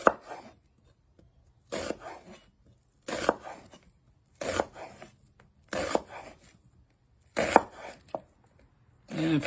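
Food sliced with a knife for kofta burgers gives about seven distinct crunchy cuts at a slow, regular pace, each one loud and close against quiet gaps.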